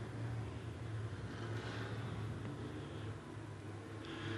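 The number 19 short track race car's engine, just refired during a caution at a speedway, gives a continuous low, throaty rumble with a steady drone and no voices.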